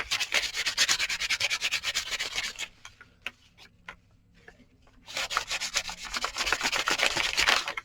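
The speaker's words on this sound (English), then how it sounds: "So grab a sanding block, and because this one's shiny" A sanding block rubs across a shiny gift bag in two close, steady bursts of brisk scratchy strokes, separated by a quieter pause of light taps and handling.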